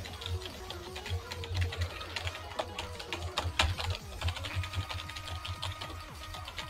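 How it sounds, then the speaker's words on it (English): A computer keyboard clatters nonstop as keys are hit rapidly while playing a rhythm game, a dense, close, even patter of clicks that barely pauses throughout. "I just can't hit the notes fast enough because of my damn keyboard."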